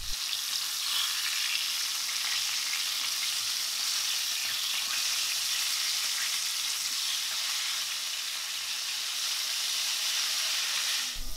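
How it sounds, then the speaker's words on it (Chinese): Garlic crispy chicken pan-fries in a pan, a loud, even, unbroken sizzle and hiss held close for the whole stretch, with no talking. "等到一面基本上煎制定型，然后底面呢都比较金黄，再把它翻面"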